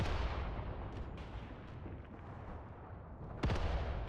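Mortar fire in the Mius Front war game: a steady rumbling barrage of distant blasts, with a sharp, louder impact near the end standing out against the continuous battle noise.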